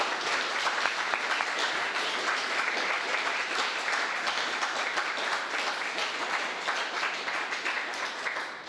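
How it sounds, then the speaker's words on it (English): Audience at a talk on the far right in France and the 2022 elections applauding the speakers, dense sustained clapping from a room full of people lasting several seconds before tapering at the end. "Could we get a round of applause maybe for our speakers?"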